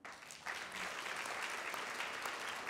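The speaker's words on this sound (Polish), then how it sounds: "Brawa." Theatre audience applause rises after a brief pause and carries on as a dense, fairly faint patter of clapping heard from a distance.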